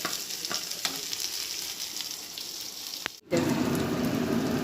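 Food frying in a pan in a home kitchen, a steady bubbling sizzle with occasional clicks, then a louder, fuller hiss as a kitchen chimney fan starts up.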